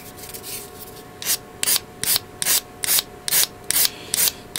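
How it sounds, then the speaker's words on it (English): A 400-grit sanding stick rubs over scratches on a 1/100 MG Gundam Aegis plastic model kit in close, even strokes, about eight rhythmic scrapes after an opening stretch of lighter rubbing. "I'm going to go into the process of sanding down the scratches"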